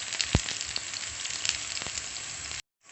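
Shallots sautéing in a pan for curry noodles give off a steady, close sizzling hiss dotted with small pops and clicks, cutting out briefly just before the end.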